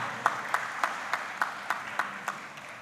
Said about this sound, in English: I think all of those persons need a round of applause